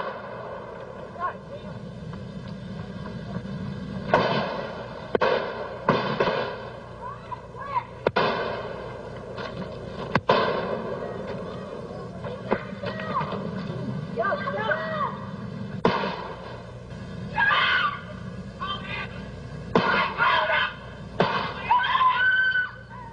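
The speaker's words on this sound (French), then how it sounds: "les deux hommes échangent 11 coups de feu en moins de 22 secondes" Gunshots exchanged between two men in a roadside dispute caught on surveillance footage, a series of sharp cracks spread irregularly over about twenty seconds, moderately distant, with voices and shouting heard between the shots.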